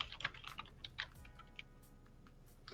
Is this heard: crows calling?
no